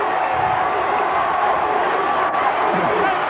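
A huge outdoor crowd at the 1991 Chicago Bulls championship celebration in Grant Park, a loud, dense roar of rhythmic chanting and cheering with no break.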